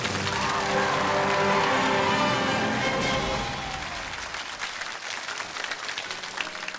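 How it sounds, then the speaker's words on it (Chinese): A studio audience at a televised lecture show applauds to welcome BYD chairman Wang Chuanfu to the stage. The dense, loud clapping holds for a few seconds, then thins and fades into scattered claps. "接下来让我们掌声有请王传福先生为我们开讲"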